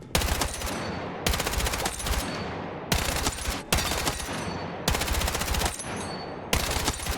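Kord 6P67 assault rifle in Battlefield 6 fires in rapid full-auto bursts, about six loud sustained strings of shots at a high rate, separated by short pauses.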